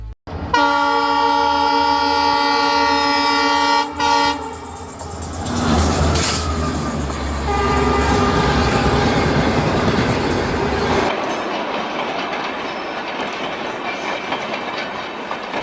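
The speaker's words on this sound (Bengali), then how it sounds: "সবুজ তার ভাই রিফাতের জন্য রেল স্টেশনে অপেক্ষা করে, এবং কিছুক্ষণের মধ্যেই ট্রেন চলে আসে।" A cartoon train pulls into a railway station, opening with a long, loud, sustained horn blast, then a heavy rumbling roll of wheels and clatter that fades toward a quieter hum, with no voices.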